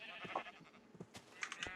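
Several short bleats from sheep on a video game sheep farm, scattered over a couple of seconds at moderate distance, with faint background game ambience.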